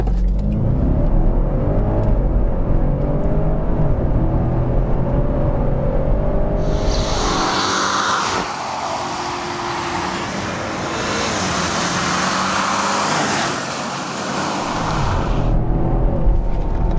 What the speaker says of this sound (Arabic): بدنا نجرب تسارع اكس 5، انا حطيت سبورتس بلس فاك تراكشن